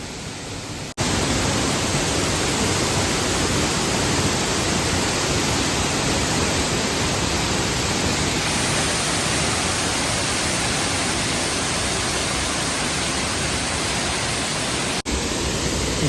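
A waterfall in Meghalaya near Dawki pours in a steady, dense rushing roar that stays constant and loud throughout, with no voices.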